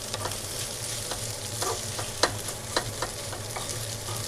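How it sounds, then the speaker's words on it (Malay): Eggs sizzle steadily in a hot pan with leftover fried chicken, a dense frying crackle with light stirring scrapes and small pops close by, no talking. "Lepas tu kita nak masukkan telur."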